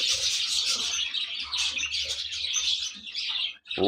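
Many chicks cheep in a dense, continuous high chorus inside a bird breeding box, close and steady throughout with a brief pause near the end.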